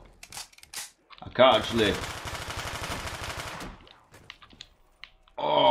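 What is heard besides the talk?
gunfire in video game Black Ops 3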